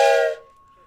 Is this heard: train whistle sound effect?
yes